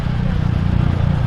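Several motorcycles ride together in convoy, giving a steady, loud engine drone with road rumble and no pauses.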